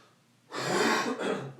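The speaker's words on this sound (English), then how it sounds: "Smoker's cough." One harsh, raspy cough bursts out after a moment of quiet and rattles on for about a second. It is close and rough-sounding.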